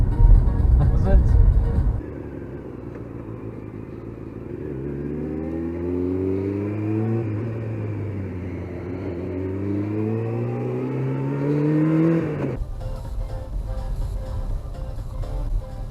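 A car whose exhaust has fallen off drives past, its engine note rising and falling in a loud, raw drone for several seconds, with voices talking over it before and after.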